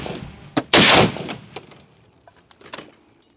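Single booming shot from an AK-50 .50 caliber rifle, a sharp loud blast with a brief ringing tail, followed by a few small clanks and thuds.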